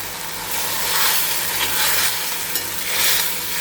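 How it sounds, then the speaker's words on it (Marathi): Steady sizzling of fenugreek leaves sautéing in a pan, with soft stirring scrapes over continuous hiss. "मेथीसुद्धा व्यवस्थित आपण परतून घेऊया"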